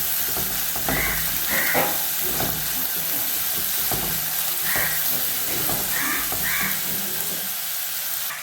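Curry ingredients sautéing in a hot pan, including chopped ginger, shallots and curry leaves with a pinch of salt: a loud continuous sizzle and hiss with intermittent stirring scrapes throughout.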